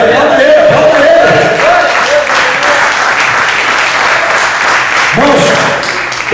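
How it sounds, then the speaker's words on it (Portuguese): A church congregation applauds loudly and steadily throughout, with cheering voices and a preacher's amplified voice rising over the clapping at the start and again near the end. "Pode aplaudir Jesus aí, aplaude ele, aplaude ele."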